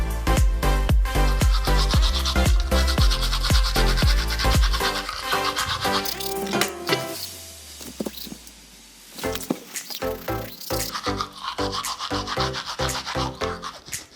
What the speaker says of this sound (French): Là, je me suis brossé les dents.